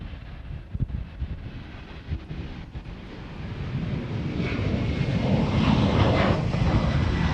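A jet airliner takes off from Honolulu airport, its engine roar building steadily from a distant rumble into a loud, sustained wash of broadband thrust noise with some wind buffeting on the microphone.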